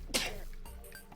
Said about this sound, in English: just had the loudest sneeze ever